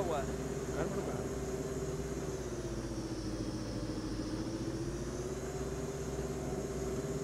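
Vehicle engine in PUBG Mobile, a steady droning hum with a sustained tonal whine that holds loud and even throughout, slightly dipping and rising in pitch as the vehicle drives.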